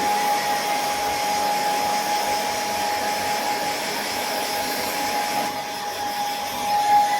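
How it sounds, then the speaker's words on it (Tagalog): A hair dryer on a warm setting blows steadily up close, drying a baby's wet feet, a continuous whooshing roar with a thin high whine running through it. "Tsaka medyo warm lang po yung blower ko."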